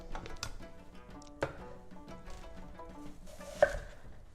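A knife slices half an onion on a cutting board, a handful of crisp scattered taps and cuts at irregular intervals, near and fairly quiet, with no talk.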